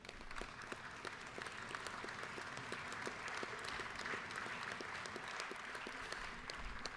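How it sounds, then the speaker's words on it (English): Applause in the Georgia House chamber, a dense, steady round of clapping from many people, heard at some distance and sustained evenly throughout. "Let's just give them a round of applause."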